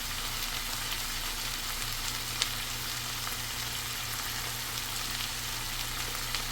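Chili powder and turmeric powder frying with beef tripe in a pan, a soft, steady sizzle with faint stirring and one brief click, quiet and without talk.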